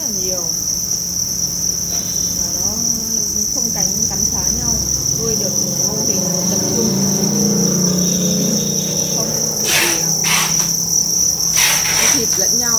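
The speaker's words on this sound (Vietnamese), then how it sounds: "Loại dế Thái này là loại dế siêu trẻ, siêu đẻ trứng" Thai crickets chirp in a dense, continuous high drone at a cricket farm, loud and steady throughout, while someone talks over them.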